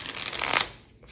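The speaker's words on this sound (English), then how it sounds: "I'm going to shuffle these real quick" A deck of cards is shuffled in one quick riffle, a dense crisp fluttering burst that swells near the middle and then cuts off, close and fairly loud with no voice over it.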